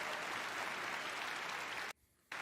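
An audience at a Blizzcon showcase applauds with a dense, even clatter of clapping that is faint and distant, dropping out briefly near the end before resuming.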